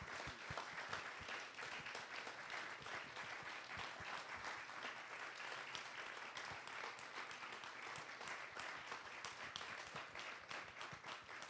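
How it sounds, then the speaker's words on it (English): Applause from an audience at an evening talk in Harrisburg honoring two speakers: dense, continuous clapping from many hands, quiet and somewhat distant, sustained evenly without pause or voices. "can we give one more round of applause for Patrick and Mike?"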